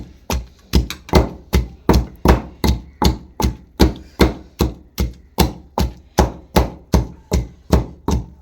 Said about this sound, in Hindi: अब पीसेंगे अपनी सब्ज़ मिर्चों को।